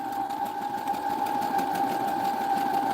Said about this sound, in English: So I'm just going to start stitching here.